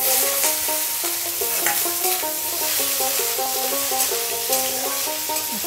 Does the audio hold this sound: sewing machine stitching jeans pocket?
no